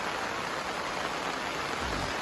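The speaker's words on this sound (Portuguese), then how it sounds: "Está chovendo bastante" Heavy rain beside a river at a campsite, a dense, steady hiss of falling drops that fills the scene evenly and stays close, with no voices.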